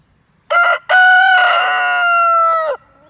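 A rooster in a chicken coop gives one loud, close crow, starting with a short note and followed by a long drawn-out call that tapers off at the end.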